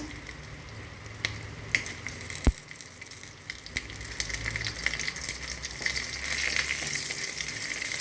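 Curry leaves, dal and broken dried red chillies fry in a tempering pan, a moderate crackling sizzle with sharp pops and clicks, a low hum running underneath.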